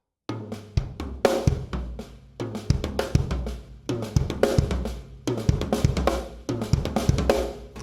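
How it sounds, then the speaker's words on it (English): On a drum kit, a fill mixes accented and soft snare strokes with kick drum hits. The rhythmic bursts repeat in short phrases, close and punchy, with the dynamics clearly varying. "messing around with those kind of loud and soft notes on the snare drum"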